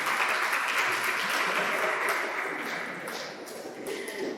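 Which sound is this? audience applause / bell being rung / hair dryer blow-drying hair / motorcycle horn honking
audience applause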